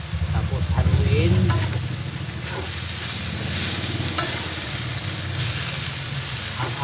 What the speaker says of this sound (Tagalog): Tapos haluin.